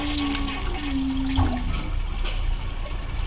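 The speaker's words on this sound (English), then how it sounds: "Then, if we were going to flush it..." A toilet flushes with a steady rush of swirling water, a gurgle and a draining whoosh partway through, heard up close and alone.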